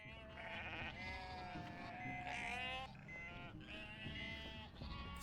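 Sheep in the video game Unmetal bleat in a run of wavering, nasal cries that rise and fall over several seconds, loud and close, with other game sounds underneath.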